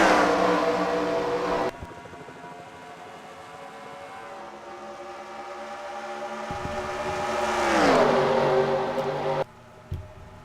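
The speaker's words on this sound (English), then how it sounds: "here comes Christian Vargas in the 18 switch truck trying to take the lead." Racing trucks roar past on the Daytona oval in a video game, a steady loud engine drone with a rising, sweeping pitch as trucks close in and pass, no talk.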